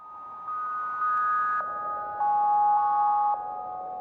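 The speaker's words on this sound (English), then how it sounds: "I have a little bit of reverb on the MicroFreak, just a tiny bit." A soft Arturia MicroFreak synthesizer plays a slow sequence of sustained tones stepping between pitches, each note ringing into a faint reverb tail, with no talking.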